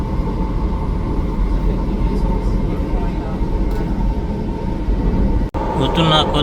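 Steady loud rumble and rattle of a train running between Paris and Belgium, heard from inside the carriage, continuous throughout with a brief dropout near the end.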